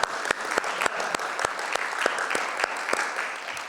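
Church congregation applauds for an organ player, a light, fairly sparse patter of claps with a steady irregular rhythm, heard alone at moderate volume for a few seconds.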